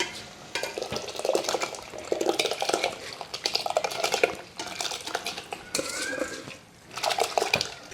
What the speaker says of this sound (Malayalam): അരി ഇട്ടിട്ടൊന്ന് ഇളക്കി